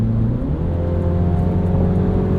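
A 2022 MINI Cooper John Cooper Works Convertible's exhaust holds a steady, loud droning idle or cruise tone throughout, a smooth continuous engine note with no talk over it.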